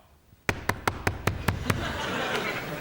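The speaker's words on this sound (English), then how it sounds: "Listen to my knock." Seven sharp knocks on a door or hard surface come in a quick, even series, close and distinct, followed by a murmur of audience noise.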